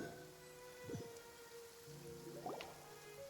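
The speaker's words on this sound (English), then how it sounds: "It's been raining non-stop for a few days now." Steady, faint rain falling in the video game Genshin Impact, soft continuous patter with a few brief tonal game sounds mixed in.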